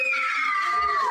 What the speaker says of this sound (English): As you heard from the screams of one.